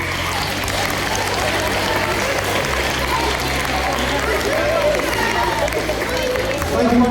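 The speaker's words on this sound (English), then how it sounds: "a big round of applause for 1B3" Applause from a school audience at an S1 awards ceremony for a class, a dense sustained clapping mixed with crowd babble throughout, fairly loud and close.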